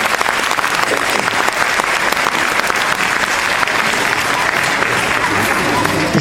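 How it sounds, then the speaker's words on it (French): A school event audience applauds the staff loudly, sustained dense clapping from a large crowd at close range with a few voices underneath. "On peut les applaudir bien fort."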